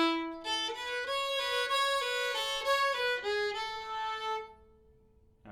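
A phrase of the old-time tune Lost Indian is played on a string instrument, a bright solo melody with clear sustained notes that ends in a fading ring.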